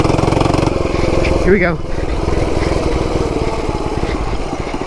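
A cheap mini bike engine runs loud and steady close by, its buzzing drone continuing under voices talking over it.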